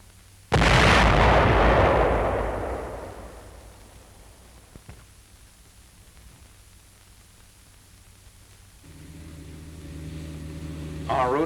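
A 240mm howitzer at a World War II field artillery position fires one huge booming blast that rolls away slowly, followed by faint background noise and a low hum.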